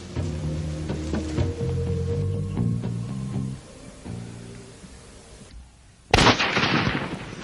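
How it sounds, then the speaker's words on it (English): A single loud rifle shot cracks out during a warthog hunt in Africa, sharp and close, following a stretch of tonal background sound and a brief near-silent pause. "drops her trophy warthog with one shot"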